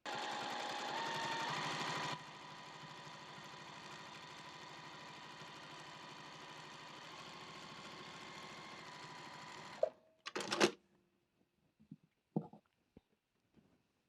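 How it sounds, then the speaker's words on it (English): A sewing machine stitching a quarter-inch seam on a fabric basket panel, running at a steady whir for about ten seconds before stopping, followed by a few clicks and handling sounds. "we're going to use that 1/4 inch seam allowance, back stitch at the beginning and the end"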